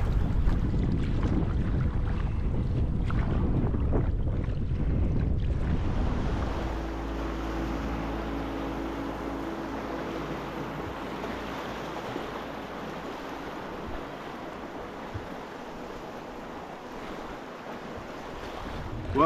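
Water rushes past a boat drifting down a Yukon river: loud churning splashes at first, then a steadier hiss of flowing water mixed with wind buffeting and a low motor hum, with no voices.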